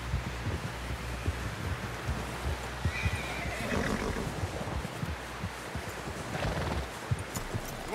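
A horse whinnies in Red Dead Redemption 2 amid steady rumbling and clip-clop hoof noise, moderately close, with a dense layered background.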